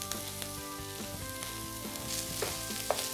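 Rice sizzles as it is tipped into a pan of frying peppers and spring onion, a steady close crackle with a few soft clinks, no talk.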